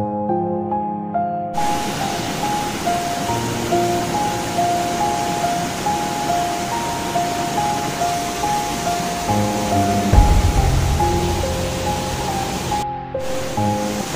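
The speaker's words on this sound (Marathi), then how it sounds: "धबधबा मागे अजूनही वाहत आहे" A loud waterfall near a temple site roars continuously, a dense close rush of falling water filling the scene for over ten seconds with a brief bump of handling noise and no speech.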